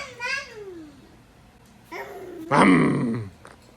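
A voice imitates race car noises in a cramped garage, with three bursts of vocal revving: a falling whine, a rising drone, then a loud, rough growl near the mic.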